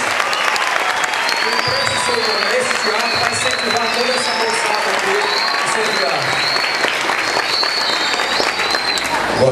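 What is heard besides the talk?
audience applause in a theatre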